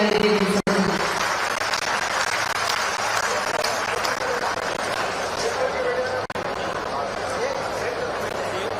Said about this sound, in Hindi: तालियां आप सबकी जोरदार होना चाहिए।